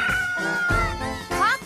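A voice imitates a cat's meow in a children's farm song, with a few drawn-out, sliding tonal calls over a steady musical backing.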